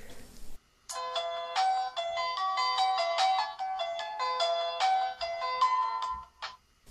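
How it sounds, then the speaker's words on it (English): A Cubot Bobby smartphone's bright electronic boot-up melody of rapid chiming tones plays for several seconds after a brief noise, ending with a short final chime. "the boot up animation plays a short sound clip every time you power on the device"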